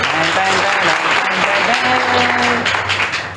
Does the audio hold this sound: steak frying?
no